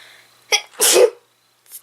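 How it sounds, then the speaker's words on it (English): After a short sharp inhale, a person gives one loud, close sneeze with a burst of breath, followed by a brief quiet pause. "I feel like I'm gonna sneeze."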